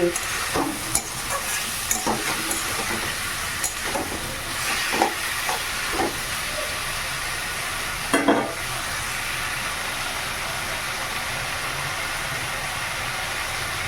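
Cumin, chili and turmeric sizzle in hot oil over a ground garlic and onion paste, a steady close frying hiss with scattered sharp crackles and stirring clatter throughout, no talking.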